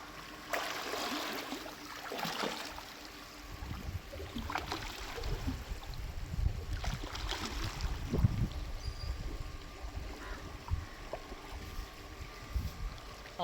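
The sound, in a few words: swimmer kicking and splashing in pool water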